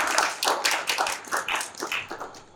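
A studio audience at a Turkish comedy talk show claps in uneven bursts of sharp, close hand claps that thin out toward the end.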